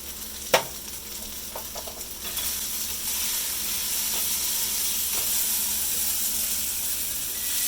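Bell peppers and onions frying with spices in a pan for chicken fajitas, a steady close sizzle and hiss that builds after a sharp clatter early on, with a few light stirring knocks.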